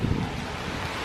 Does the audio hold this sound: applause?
no